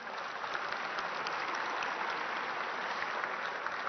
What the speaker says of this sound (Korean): 이분께도 격려의 박수 부탁드립니다